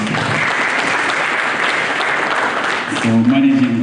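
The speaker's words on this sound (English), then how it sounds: "Can we give another round of applause to Mark" A conference crowd at a real estate and infrastructure event claps for the moderator, a dense, steady burst of applause that continues until a voice starts speaking over its tail.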